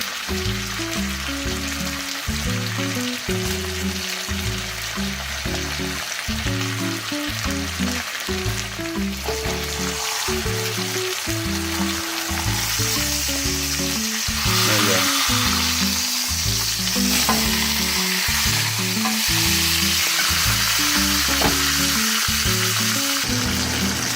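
A ribeye steak sizzles hard and steadily in a cast iron pan, a loud, unbroken crackling hiss with a pulsing lower rumble running through it.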